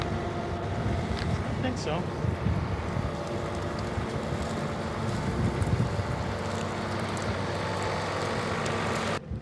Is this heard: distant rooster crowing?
no